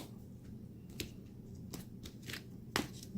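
Soft riffling and flicking of cards in a few brief bursts, close up over a quiet room, with small taps and handling noises between.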